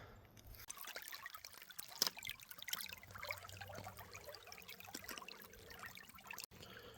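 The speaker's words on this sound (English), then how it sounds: "So I'm standing in the creek." Shallow creek on a forested 20-acre property in Forest City, North Carolina, water trickling and babbling steadily over stones at close range, soft and continuous with scattered splashy drips and no talk.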